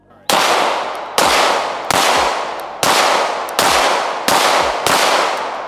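Seven loud 9mm 115-grain pistol shots fired at close range, 5 to 7 yards, into a bulletproof pillow set on a steel target, each sharp crack spaced under a second apart with a brief ringing decay.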